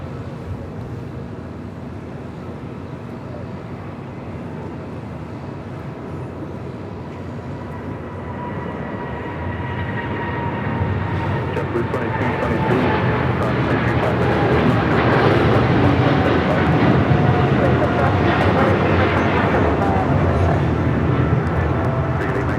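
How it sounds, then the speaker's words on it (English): A China Cargo Airlines Boeing 777 freighter takes off at Los Angeles airport; a steady distant jet roar swells to a louder, broad rumble about halfway through and holds there, with no talking. "We also have here on the south side a takeoff, China Cargo Airlines 777 freighter."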